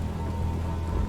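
Rain and thunder in the video game Last Days of Lazarus: steady, dense rainfall hisses on a surface over a deep rolling rumble of thunder, with no voices.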